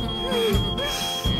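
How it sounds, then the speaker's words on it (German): A cartoon supermarket fire alarm rings with a steady high electronic tone, loud and continuous, while muffled voices and low thuds sit underneath. "Das kann doch nur wieder ein falscher Alarm sein."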